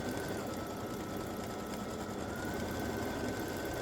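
A long-arm quilting machine stitches an edge-to-edge double loop design, giving a steady, close mechanical hum with fast rapid needle chatter that runs evenly throughout.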